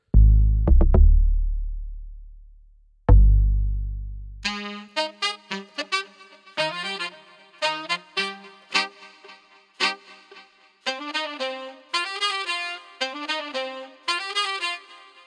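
An amapiano beat where a saxophone riff switches up, playing short bright staccato phrases in a bouncy syncopated pattern over a deep sustained log-drum bass, preceded by a couple of booming low hits that fade out.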